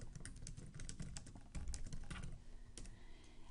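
A computer keyboard being typed on while an email is composed, with a steady, quick patter of close, soft key clicks and no voice.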